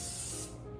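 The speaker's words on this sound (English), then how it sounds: "I'm going to spray them" Short hissing burst of cooking spray aimed into small pots on a stove, close and steady for under a second before tailing off.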